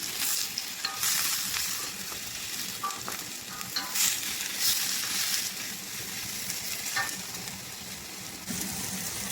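Bottle gourd and shrimp sauté in a hot pan, with a continuous bright sizzle and occasional scraping stir strokes, close and steady throughout.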